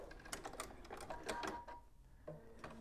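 Sewing machine stitching fabric into a corner with a short backstitch, a quick run of close mechanical needle clatter that pauses briefly and then gives a few more faint stitches, quiet overall.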